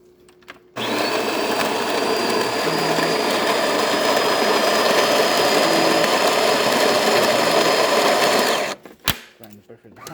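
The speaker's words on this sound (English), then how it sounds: "We will be able to start brewing coffee." A DeLonghi espresso machine, just serviced and tuned up, brews with a loud, steady pump hum that runs unbroken for about eight seconds and then cuts off abruptly, followed by a few small clicks.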